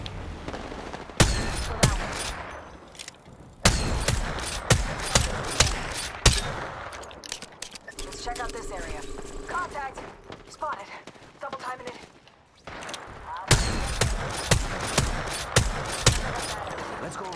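Video game battle gunfire crackles in bursts of sharp shots and rapid volleys, quieting in the middle before heavy firing resumes, with a player's voice talking over it.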